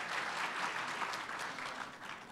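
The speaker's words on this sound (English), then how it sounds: "give a quick round of applause to the startups who have presented so far" A conference audience at a tech center winter summit applauds the presenting startups, a sustained, even round of clapping heard from a moderate distance, somewhat soft but continuous.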